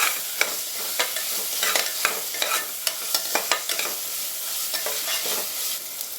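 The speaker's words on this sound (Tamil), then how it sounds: "இப்போ இதில் தக்காளி நல்லா வதங்கணும்." Tomatoes sauté in a pan over a medium flame for egg biryani, giving a steady close sizzle with regular stirring scrapes and taps about every half second.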